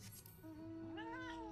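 A fat cat in the video game Final Fantasy XIV gives one drawn-out, rising meow under a steady soft game background.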